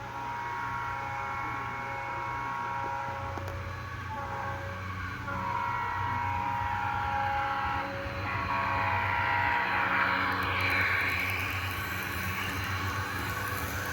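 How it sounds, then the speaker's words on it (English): Santa Fe train 125, led by EMD GP60 demonstrator locomotives, speeds past with a steady rumble while the horn sounds in sustained blasts that swell and bend in pitch toward the end. "Train number 125 flies down the racetrack."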